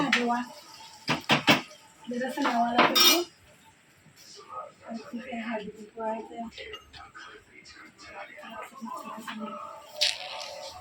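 A metal pot and plates clank and clink in a few sharp, close bursts, followed by lighter scattered rattling, while people talk throughout.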